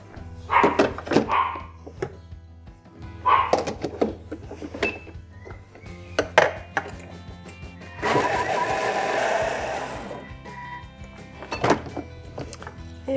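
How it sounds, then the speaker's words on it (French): A blender briefly whirs through raw green leaf soup, a loud dense burst of about two seconds following scattered thunks and clinks of kitchenware nearby. "Et on va mixer le reste."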